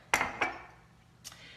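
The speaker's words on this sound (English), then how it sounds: "I'm going to dump my coffee in the blender." Brewed coffee is dumped into a blender, giving two sharp clattering knocks followed by a quieter third a second later, close and dry.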